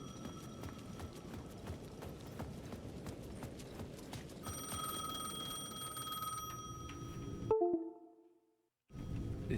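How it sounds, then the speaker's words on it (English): A payphone at the edge of a plaza rings in the Alan Wake 2 video game: a repeated electronic ringing tone heard over rhythmic footsteps and ambient game noise, louder near the end before a short sharp click, silence, then sound returning. "The payphone at the edge of the plaza was ringing again."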